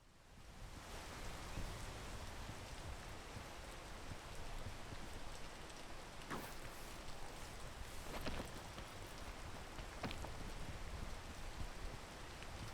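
Steady, even rainfall pattering down in the video game Peak, a soft continuous wash of noise with a few faint crackles, no voices.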